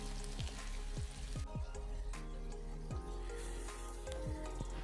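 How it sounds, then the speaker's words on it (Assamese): Ginger, garlic and onion paste sizzles steadily in hot oil in a pan, a continuous close frying hiss with scattered pops and small stirring knocks, no voices. "তেলটো গৰম হৈছে, এতিয়া আদা নহৰু পিঁয়াজৰ পেষ্টখিনি মই দি দিছোঁ।"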